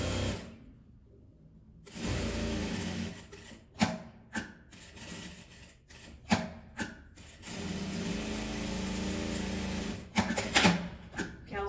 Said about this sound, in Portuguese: E agora eu vou passar uma costura